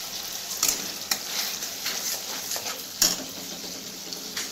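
A vegetarian masala paste fries in oil in a pan for dhokar dalna, a steady close sizzle broken by several sharp stirring scrapes and knocks of a spoon against the pan.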